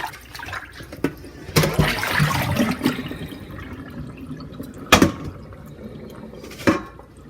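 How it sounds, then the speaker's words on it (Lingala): Warm water mixed with vinegar is poured over catfish to rinse them, a close, splashing gush with a few sharper spills and drips, no voices. "Je vais verser ici pour les rincer."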